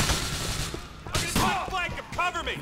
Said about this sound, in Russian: Кто мне стреляет?